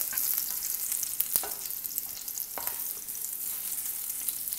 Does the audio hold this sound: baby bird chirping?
no